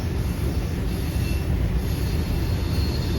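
A steady rumbling roar of a Long Island Rail Road train rolling past nearby, with a thin high metallic squeal running above the rumble throughout.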